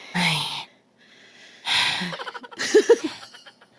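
A woman breathes audibly in a few short bursts, a sharp gasping inhale, a pause, then another breath trailing into a quick series of halting, stuttered exhalations, close and fairly loud.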